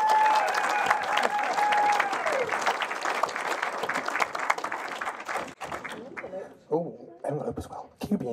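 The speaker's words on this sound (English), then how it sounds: "a massive round of applause" Audience applause at an awards ceremony, a dense sustained round of clapping that carries loudly for about five seconds, then thins out and breaks up as a voice starts speaking over the fading claps.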